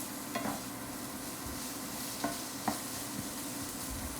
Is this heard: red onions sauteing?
yes